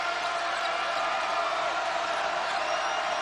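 Basketball arena crowd from a 2008 VCU at Old Dominion college game, a dense, steady roar of cheering that fills the whole stretch without a break.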